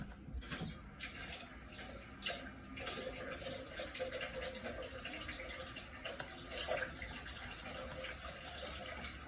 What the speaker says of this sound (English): So I'm gonna get some water out the sink.